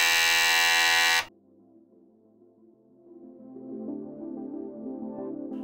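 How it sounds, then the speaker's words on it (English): A broken 3-inch floppy drive in a dead Tatung Einstein computer, with a disc jammed inside at an angle, gives a loud, harsh buzzing grind that cuts off abruptly after about a second, then a quieter low mechanical whirr builds. "But the floppy drive doesn't work, making an awful grinding noise."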